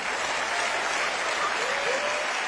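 Sustained audience applause fills the hall at a Russian comedy show, a steady dense wash of clapping, loud and even from start to finish with no talk over it.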